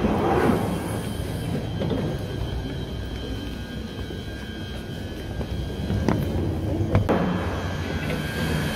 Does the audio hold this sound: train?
yes